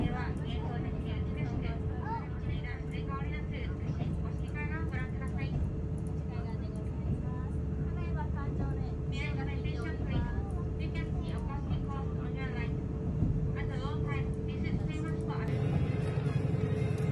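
Limited express train "A列車で行こう" running through green countryside, heard from inside as a steady rumbling drone with a constant hum, while a voice talks over it throughout.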